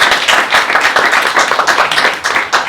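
Audience applauding after a card magic trick at an illusionism talk, close, dense clapping from a modest crowd, steady throughout.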